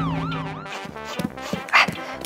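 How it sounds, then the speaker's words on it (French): A toy ambulance siren wails in rising and falling sweeps, loud and close, before giving way to bright cartoonish music and sound effects. "T'as trouvé une ambulance! Ah! Il y a même une sirène!"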